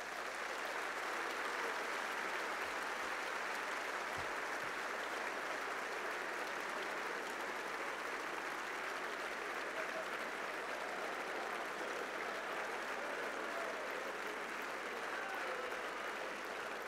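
Audience at a FNSEA farmers' union congress closing speech gives sustained applause, a steady, dense wash of clapping from a large crowd that holds evenly for the full length without talk.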